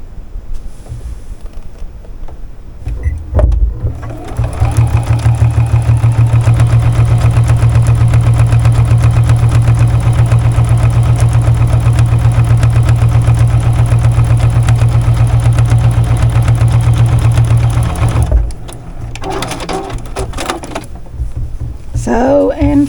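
Sewing machine stitching a zipper bag runs in one long, steady, loud buzzing stretch up close, starting and stopping abruptly, with a short pause and a brief resumption near the end.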